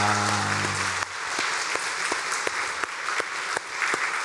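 A Korean church congregation at a Sunday worship service breaks into loud, sustained applause filling the sanctuary, a dense steady wash of clapping with a few sharper claps, after a voice fades out at the start.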